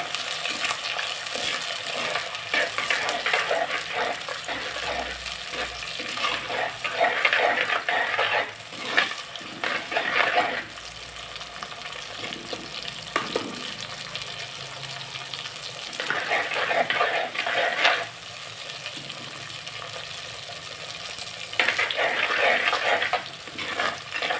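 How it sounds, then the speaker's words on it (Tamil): Tomato, green chilli and onion sautéing in a pan: a steady, close sizzle throughout, broken by bursts of stirring and utensil scrapes, with no talking. "பச்சை மிளகாய் போட்டிருக்கேன். நல்லா வதங்கணும்."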